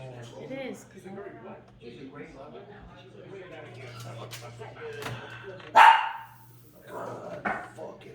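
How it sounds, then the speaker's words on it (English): A dog barks loudly in one sharp burst near the end, with a few fainter barks after, heard during a dishwasher gasket repair with people talking throughout. "It's the loudest dog I've ever heard"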